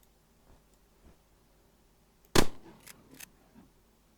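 A shotgun blast in the shooter game After Conflict rings out as one loud, sharp bang, followed by a couple of softer clicking echoes in an otherwise quiet scene.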